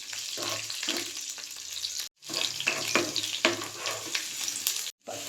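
Curry leaves and garlic crackle and sizzle in hot oil in a pan, with spoon scrapes from stirring. The frying sound is interrupted by two brief cuts of silence.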